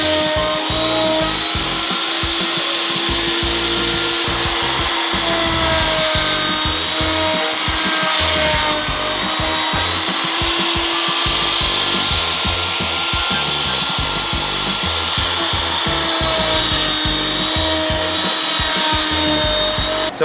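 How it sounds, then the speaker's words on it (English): A CNC machine cuts rail holes into PVC gate posts in a fence shop, a steady loud grinding, whirring drone with sustained tonal whine, continuous throughout with no talk. "we use the CNC machine back there to cut the holes for the rails"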